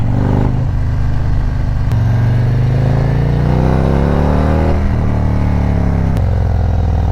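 A motorcycle engine revving hard up close, loud and continuous, with rising and falling pitch across several throttle blips and no talk over it.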